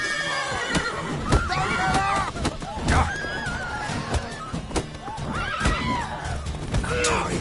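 Horses in The Witcher 3 video game, repeated loud whinnies and neighs rising and falling over clip-clopping hooves and a busy background, with game voices heard alongside.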